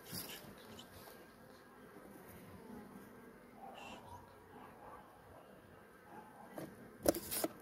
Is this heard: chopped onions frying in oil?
no